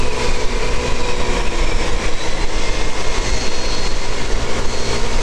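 A Yamaha X-Ride 125 motorbike carrying two riders at full throttle on a night road: a steady, loud engine drone mixed with heavy wind rush, continuous and unbroken, with no talk.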